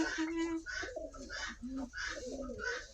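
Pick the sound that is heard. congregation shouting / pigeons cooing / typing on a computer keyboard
pigeons cooing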